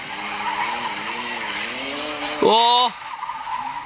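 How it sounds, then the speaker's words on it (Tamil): BMW F10 drifting on a road, with a brief sharp tire squeal near the end rising over steady engine and road noise while a voice exclaims. "பின்னா லிட்டர்லி அடி செம்மையா ட்ரிஃப்ட் அடிக்குது."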